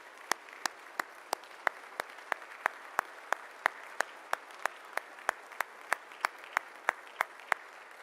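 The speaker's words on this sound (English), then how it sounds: "Let's give all our inductees one final round of applause." Audience applauding Hall of Fame inductees at an induction ceremony, a sparse, steady pattern of sharp individual claps in an even rhythm, sounding like a small group or a single close clapper over a soft room wash.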